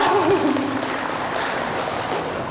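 Dense, steady applause from a seated audience at an Indonesian teacher-training session on deep learning, a continuous wash of many hands with a voice briefly audible at the start.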